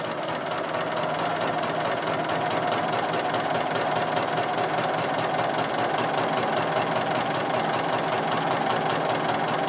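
A sewing machine quilting straight along a grid line, running as one continuous, even motor whir with a fast, steady stitching rhythm and no pauses.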